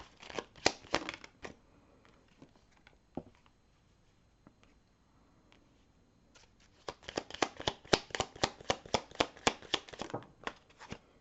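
Tarot cards are shuffled and drawn by hand, with a close burst of riffling flicks, a quieter pause with a few soft taps, then a longer run of rapid, crisp card snaps.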